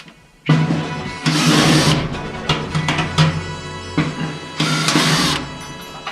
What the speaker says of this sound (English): to remove the rear bearing, we're going to use an 8mm socket